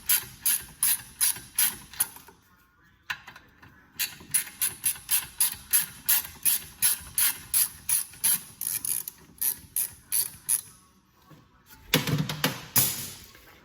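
A ratchet wrench loosens the lower bolt on the rear brake of a 2018 Subaru Outback, giving rapid bursts of close, sharp clicking strokes with short pauses, then a heavier clunk near the end.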